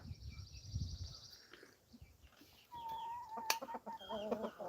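Chickens on a homestead cluck and call faintly in the background, with scattered short clucks and a brief higher cry amid quiet outdoor ambience.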